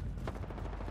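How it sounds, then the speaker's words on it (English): Apex Legends gunfire in a quick burst of rapid shots, close and dense, lasting under a second. "Taking fire."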